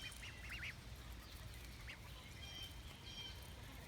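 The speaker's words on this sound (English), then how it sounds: "What you doing, baby ducks?" Baby ducks on a small farm give a few soft, faint peeping quacks in short clusters against a steady low background hum.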